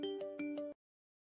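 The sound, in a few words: mobile phone ringtone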